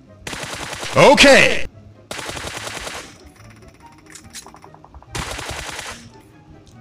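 Automatic weapons in a first-person shooting video game fire in three short, rapid bursts separated by quiet gaps, the first the loudest; someone speaks briefly.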